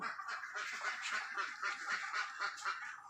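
Ducks on a poultry farm for laying fowl keep up a continuous chorus of nasal quacking and honking, moderately close and dense, with no voices over it.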